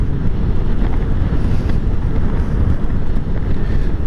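Steady, loud wind buffeting on a Honda GL1500 Goldwing motorcycle cruising on the interstate on a gusty day, a continuous low roar with no break and no voices.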